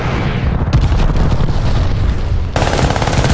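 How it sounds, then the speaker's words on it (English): Glide bomb blasts and rapid gunfire in the multiplayer game Call of Duty Vanguard, a loud, dense barrage of rattling shots and booming explosions, with a harsh burst of noise near the end. "Heads up! Enemy glide bomb coming in hot!"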